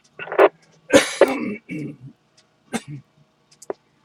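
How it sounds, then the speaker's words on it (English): Someone clears their throat several times in short, raspy bursts, with brief pauses between and a few smaller throaty sounds trailing off. "Let me clear my throat, please."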